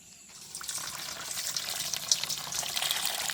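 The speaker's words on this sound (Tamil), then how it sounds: "நாங்கள் அப்படியே பப்பாசி பழத்தையும் கழுவி எடுப்போம்." Running water pours over a papaya fruit as it is washed, a steady close splashing gush that starts after a brief quiet moment and keeps going.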